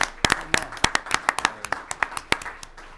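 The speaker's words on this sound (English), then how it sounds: "I want to give a round of applause on our new pool coming." A small group claps at a school board meeting, producing a sparse, fairly loud round of separate hand claps that patter unevenly for a few seconds.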